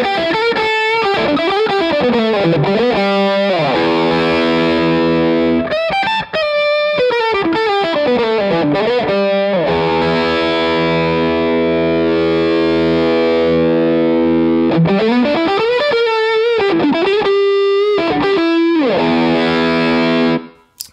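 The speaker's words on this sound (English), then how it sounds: "with the gain knob all the way to the left, you might go for like a treble booster sound" Bennett Custom Audio Sea Eagle distortion pedal with the gain knob turned all the way down for a treble booster tone, carrying a bright, biting electric guitar playing sustained chords and sliding riffs continuously for about twenty seconds.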